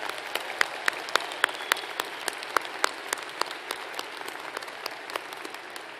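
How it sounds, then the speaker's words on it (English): A small crowd claps steadily, with scattered louder individual claps standing out over the continuous patter. "please join me in a round of applause for their service to us in this great country"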